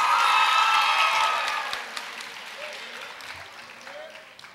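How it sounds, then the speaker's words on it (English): Audience applause fills a school promotion ceremony at Francis C. Hammond Middle School, starting as a loud, dense burst of clapping and slowly thinning out and fading over several seconds. "Please give them a round of applause."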